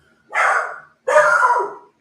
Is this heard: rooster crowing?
no